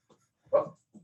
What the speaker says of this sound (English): Sounds like your Greyhound wants to have a word or two about that past too.